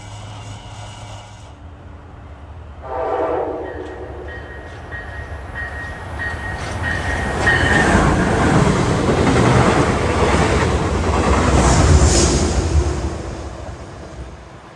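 A Metro North employee holiday special train passes, its rumble swelling from a distant approach into a loud, sustained roar of wheels and rushing air that stays heavy to the end, with no talk.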